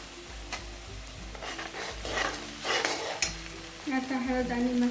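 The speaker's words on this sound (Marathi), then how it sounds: "आता आपण टमाटर टाकतो आहोत." Tomatoes go into a hot frying pan for stuffed okra masala. Bursts of sizzling and stirring scrape rise and fall, then a brighter frying hiss builds near the end.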